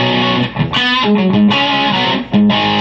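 Electric guitar with only a boost pedal engaged, no overdrive, from a GCX/Ground Control rig; a loud, gritty short phrase of sustained notes and bends with quick pauses, played alone.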